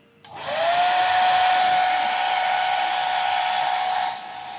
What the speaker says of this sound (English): The reason I use the blow dryer